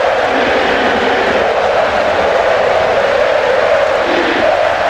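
Steady roar of a capacity stadium crowd cheering a goal in a PES football video game match, a dense continuous wall of voices with no single voice standing out.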